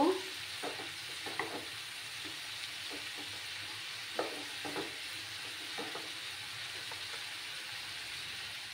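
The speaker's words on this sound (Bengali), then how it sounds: "আমি এটাকে নাড়াচাড়া করে নেব" Slit green chillies and cauliflower stalks sizzle steadily in a pan, with soft intermittent scrapes of stirring over a constant close frying hiss.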